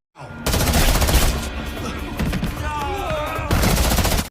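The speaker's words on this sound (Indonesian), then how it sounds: "dan baku tembak pun terjadi." Gunfight in an action film: dense, loud bursts of rapid gunfire fill the scene almost continuously, with a brief lull before another heavy volley near the end.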